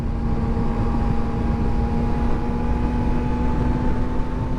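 A 2023 Suzuki GSX-250R motorcycle ridden at full throttle in fourth gear, a sustained droning engine tone with a steady pitch under a heavy rush of wind noise, constant and loud from start to finish.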